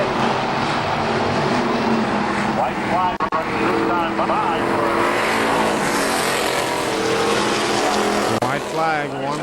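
Race cars roar around KilKare Speedway in a loud, sustained engine drone with rising and falling revs as cars pass, while an announcer talks over the racing throughout.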